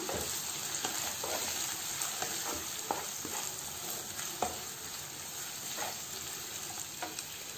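Chopped onions with curry leaves fry in a pan for mutton liver pepper fry, a continuous soft sizzle broken by repeated light scrapes and taps of a spatula stirring through the mix.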